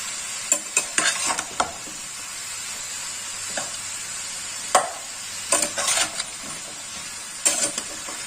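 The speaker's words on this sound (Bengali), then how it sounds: "ভালো করে আগে একটু ভেজে নেবো লাউটা" Bottle gourd with slit green chilies and spice masala frying in a pan, a steady hiss under scattered spatula scrapes and stirring clatters, with no talking.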